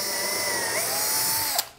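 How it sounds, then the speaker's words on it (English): A power drill bores through a wooden stem for a skin-on-frame kayak, giving a steady high-pitched whine that runs close and alone, then cuts off sharply near the end. "I should just be able to drill straight down the middle of my holes"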